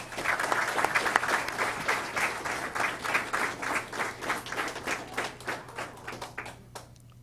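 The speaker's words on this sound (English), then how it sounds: "if y'all would please join me in giving Ronald a round of applause" An audience at a TCAT Hohenwald signing-day ceremony claps steadily for a graduate, a dense crowd of hand claps that holds strong and then thins and fades toward the end, with no talk over it.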